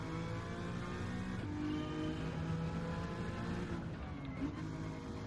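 A Honda NSX engine hums at a steady pitch in the racing game Gran Turismo 7, a continuous, moderately loud drone that shifts slightly in tone midway and stays constant with no talking.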